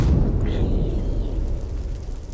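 Fire attack from a giant sword in modded Minecraft (All The Mods 9) bursting into an explosion: a loud, rumbling blast with a dense low-end roar that lingers and slowly fades, without speech.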